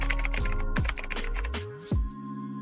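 Typing on a computer keyboard, a quick run of close, sharp keystrokes over a pulsing electronic music bed, without any voice.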